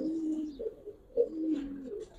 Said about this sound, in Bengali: ভাই এগুলো আমার আতালের কবুতর, নিয়ে এলাম আতাল দিকে